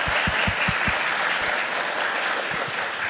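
Audience applause at a literary festival author event rises in a burst of clapping, close and steady with a few sharper claps, then fades toward the end.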